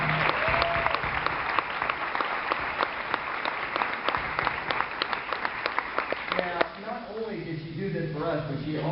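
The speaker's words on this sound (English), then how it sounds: "I'd like to put a round of applause for the woman who put this together." An audience at a talk on success gives a sustained round of applause for the woman who organized the event: dense, loud clapping for most of the stretch, tapering near the end as a voice speaks over it.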